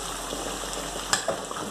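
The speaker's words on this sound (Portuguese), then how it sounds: "Já tá fritando lá dentro, ó." Pork ribs frying in a pan, a steady close sizzle with a couple of small sharp pops near the end, no talking.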